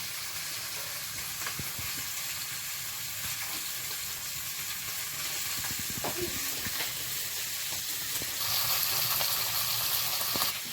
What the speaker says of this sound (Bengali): এইবার কড়াইয়ে তেল দিয়ে দেবো এই যে পেঁয়াজ রসুন আদা লঙ্কা টমেটো সব নিয়ে নেবো